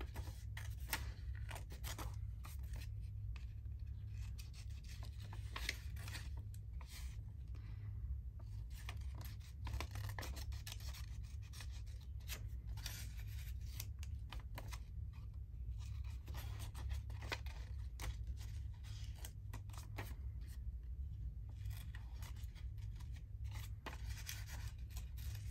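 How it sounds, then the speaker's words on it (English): Scissors snip off loose bits of paper while an envelope journal is assembled inside a hardcover, a steady run of small close cuts and rubbing over a low constant background hum, with no talking. "So just snip all your bits off that get in the way."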